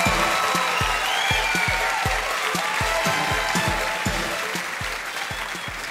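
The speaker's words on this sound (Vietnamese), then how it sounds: "Xin quý vị gửi một tràng pháo tay đặc biệt" Audience applause in a theater during a 1998 music stage show, a broad wash of crowd clapping with a steady rhythmic beat of music thumping underneath, tapering slightly toward the end.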